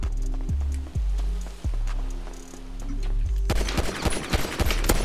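In a GTA RP game set in a favela, a low engine drone rises and falls in repeated surges, then a rapid volley of sharp gunshots crackles in quick bursts.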